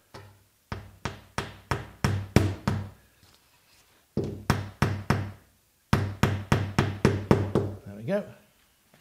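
Hammer blows drive angled nails into wood while a coffin is built, striking in two quick bursts of about eight to ten sharp, evenly spaced knocks each, loud and close, with a brief pause between.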